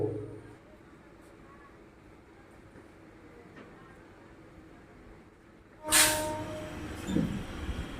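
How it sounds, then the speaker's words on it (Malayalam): The Ooty toy train departs Karamadai railway station, rumbling quietly for several seconds, then a sudden loud blast or screech breaks in near the end, followed by further rail noise. "ട്രെയിൻ ഇപ്പോൾ വീണ്ടും കരൈമട റെയിൽവേ സ്റ്റേഷനിൽ നിന്ന് യാത്ര ആരംഭിച്ചിരിക്കുകയാണ്"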